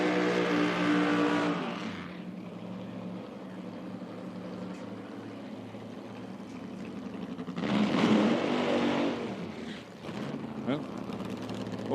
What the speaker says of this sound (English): Well, short burn out there for Mick.